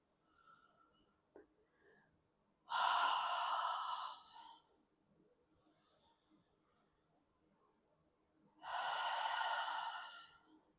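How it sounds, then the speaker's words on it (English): Deep, audible breaths during a yoga flexibility stretch: two strong, close, breathy exhales several seconds apart, with softer inhales between them and no talking. "Another breath in"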